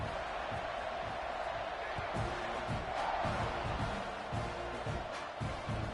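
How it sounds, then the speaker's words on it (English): A football stadium crowd roars before kickoff, a steady loud wash of cheering and shouting filling the whole stretch with no break. "this crowd now ready to get behind them."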